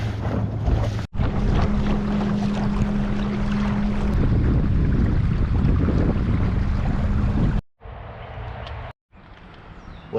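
Wind and water rush past a kayak driven by an electric trolling motor on a 100 Ah lithium battery at full speed, a loud steady roar with a faint motor hum, broken by short handling bumps and gaps near the end.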